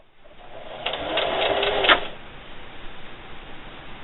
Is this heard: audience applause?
no